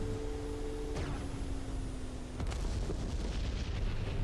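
Missile explosion around an Mi-24P Hind helicopter in the DCS flight simulator: two sharp blasts about a second and a half apart followed by rumbling low booms, heard at moderate level over a steady engine drone, with no talking.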